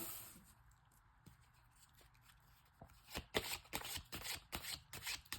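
A deck of tarot cards is shuffled by hand, with quiet sparse handling at first and then a run of crisp riffling bursts, close and clear.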